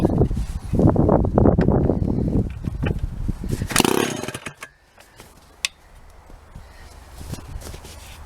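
Precision chainsaw engine running close by, a loud rough buzzing roar that surges for several seconds, then drops away to a quieter idle with scattered clicks and knocks.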